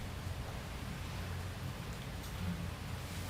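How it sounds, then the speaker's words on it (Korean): Steady rain falling outdoors, a soft continuous hiss with faint patter, fairly quiet and uninterrupted. "빗소리 들리죠?"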